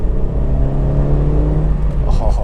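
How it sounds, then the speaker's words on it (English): A Honda CR-Z 1.5 four-cylinder hybrid engine revving under acceleration, a loud, steady droning tone with a guttural intake note that holds, then eases off near the end. "The engine itself is your typical Honda 4-cylinder engine. It's such a keen engine to rev."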